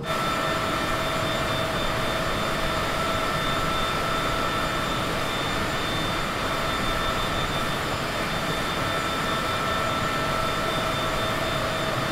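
A simulated Cessna engine runs while taxiing in Microsoft Flight Simulator 2020, a continuous even drone with steady tonal whine and hiss, unchanging throughout, with no talk.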